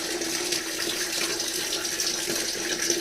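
Water leaks from a faulty home shower and falls into a shower cap, making a steady, close splashing patter with a few brighter spikes. No one speaks over it.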